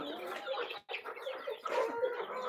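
Pet chickens cluck steadily and close by, a busy flock sound with one brief gap of silence partway through.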